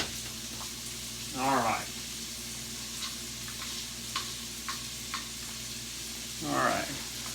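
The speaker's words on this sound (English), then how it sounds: "And then I've got about 3/4 of a cup of chopped onions. So we're going to cook those first." Chopped onions frying in butter in a skillet, a soft steady sizzle with occasional stirring taps and scrapes, while a person speaks briefly.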